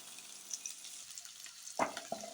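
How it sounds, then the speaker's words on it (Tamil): Onion and chillies sautéing in a pan for chutney, a quiet sizzle with light clinks of a spatula and a sharper scrape near the end. "இதையும் போட்டு நல்லா வதக்குங்க."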